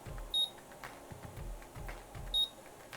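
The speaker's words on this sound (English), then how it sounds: "You listen out for the quick beeps." An automatic hair curler gives two short, high electronic beeps about two seconds apart, faint and close, over a quiet background.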